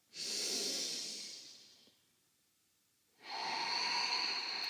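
Deep yoga breathing during a power yoga class, one long audible breath, a quiet pause, then another long breath, close and airy with no talk.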